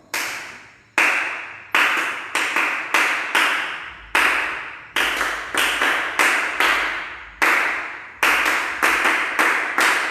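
A group claps hands in steady rhythmic bursts, sharp repeated claps in a syncopated pattern meant to fit a guitar rhythm, loud and close with short pauses between phrases.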